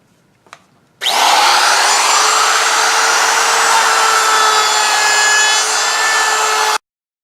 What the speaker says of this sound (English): So I'm just going to route both faces on each of these pieces.